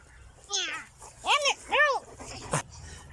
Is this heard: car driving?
no